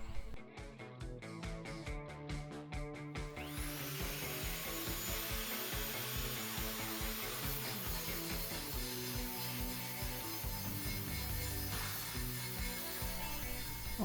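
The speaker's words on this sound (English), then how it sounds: "I am here grinding down some MIG welds" A Titan power file grinds down MIG welds on metal, a steady, loud abrasive whine running continuously after a burst of rapid choppy pulses at the start, with no talking.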